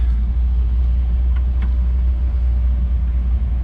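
A BMW Z-Kart engine idling with a misfire, a steady low rumble with a couple of faint sharp ticks partway through, close and continuous with no talk.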